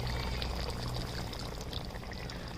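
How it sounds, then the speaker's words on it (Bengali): Water pours into a cooking pan of mouri potol, a vegetarian fennel and pointed-gourd dish, as a continuous close splashing rush lasting a couple of seconds. "একটু জল দিয়ে দেবো"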